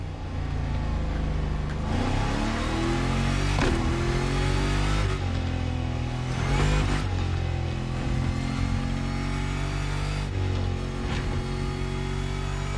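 A car engine in a video game revs hard near redline, a loud, continuous droning whine that climbs and drops in pitch with repeated shift-like breaks, heard alone without talk.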